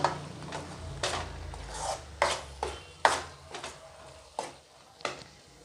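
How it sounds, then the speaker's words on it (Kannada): Eggs are mixed with salt, turmeric and masala for an egg curry, a series of soft rubbing, scraping strokes against a bowl or pan, repeated at irregular intervals, close and fairly quiet. "ಇದನ್ನು ಚೆನ್ನಾಗಿ ಕಲಿಸ್ಕೋಬೇಕು"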